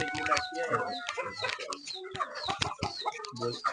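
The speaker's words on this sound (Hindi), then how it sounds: "अच्छा, तो ये सब अलग अलग वैरायटीज के चिकन भी है यहाँ।" Desi and Aseel-cross chickens on a small village farm cluck and squawk close by in busy overlapping calls, some hens sitting on eggs, while people talk over them.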